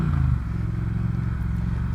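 A Triumph Speed Twin motorcycle (2019) fitted with Vance Hines exhaust pipes runs with a steady, deep rumble, close and loud, the tone holding even throughout with no talk over it.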